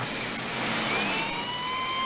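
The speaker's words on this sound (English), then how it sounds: "The ambulance carrying the little girl took off for Bedford County General Hospital, with family members following behind" An ambulance siren wails as the vehicle pulls away, a thin rising and sustained tone sitting over a broad, steady wash of engine and road noise at moderate distance.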